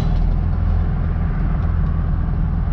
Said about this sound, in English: Oh, it's idling now.